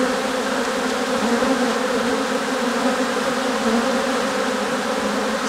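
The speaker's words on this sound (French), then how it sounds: "C'est beaucoup d'abeilles" A large swarm of honeybees from an open-air colony being recovered, buzzing steadily and loudly up close as a dense, continuous drone with no talk.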